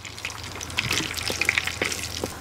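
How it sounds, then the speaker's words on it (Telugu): Tempering spices crackling and sizzling in hot oil in a pan for tamarind dal, a steady close fry with small pops and spits throughout. "నూనె అయితే కాగింది. ఇప్పుడు ఇందులో పోపు దినుసులు వేసుకుంటున్నాను."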